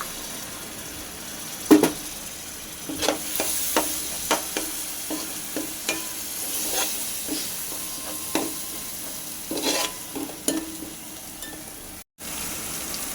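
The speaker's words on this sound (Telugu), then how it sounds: "ఇప్పుడు మనం మిక్సీ చేసుకున్న టమాటా ఇందులో వేసి బాగా వేయించుకోవాలి" Blended tomato stirred into onions frying in oil for a crab curry: a steady soft sizzle broken by repeated scraping taps of a spoon against the pan, close and fairly quiet, with no talking.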